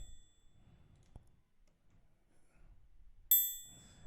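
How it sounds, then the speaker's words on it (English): A single bright metallic bell strike from an afrobeats beat rings out clearly and decays slowly, preceded by soft low thumps and a quiet click. "I have a bell which sounds like this."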